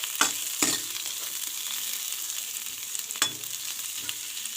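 Onions frying in a pan for village-style makhan saag, a steady crackling sizzle with a few louder stirring scrapes, close and continuous.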